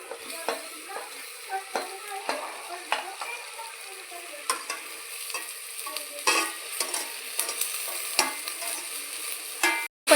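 Onion, potatoes and peas sizzling in a pan for masale bhaat, with a steady crackle under regular scraping stirs and light clinks of a spoon against the metal, ending with a brief cut.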